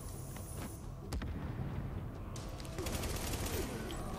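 Gunfire from a secondary weapon in Tom Clancy's The Division rattles in rapid bursts amid rumbling game noise and faint voices, building toward the end.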